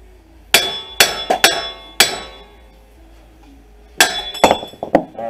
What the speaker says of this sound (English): usually you can just tap on these and they'll come out